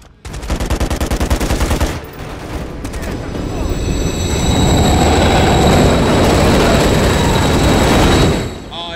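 A train rushes loudly past in a Modern Warfare 3 campaign mission, a sustained roaring rumble that builds and holds for several seconds. It follows a burst of rapid gunfire near the start.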